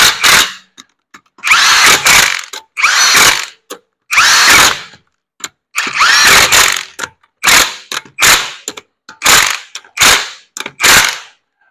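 Power tool tightening lug nuts on a 2011 Ford Explorer wheel during a tire rotation: loud close bursts of impact whirring and rattling, about a dozen short runs separated by brief silences.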